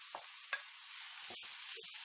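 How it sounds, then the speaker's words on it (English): Shallots with red, white and spring onions sauté in a pan with a soft, thin sizzle. Several brief taps and scrapes from stirring sound over it, all quiet and close. "So I'm going to saute all these."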